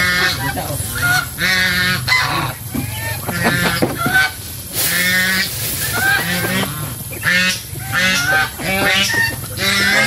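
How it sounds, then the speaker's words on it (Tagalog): Geese honking loudly and repeatedly in a farmyard flock, a near, busy chorus of overlapping calls that runs without a break. "yun na aking mga gansa"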